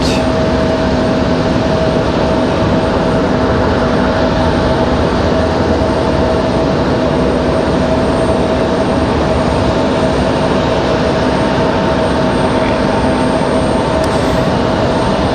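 An American Airlines Boeing 737 departs the runway at Raleigh-Durham, a loud, continuous jet engine roar with a steady tonal whine running underneath and no talking.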